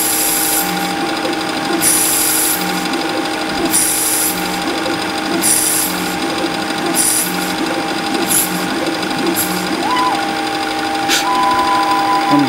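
A machine boring a deep taper on its final cut gives a continuous loud mechanical whir and hum with a faint high whine, punctuated by periodic clicking, ratchet-like bursts from the machine.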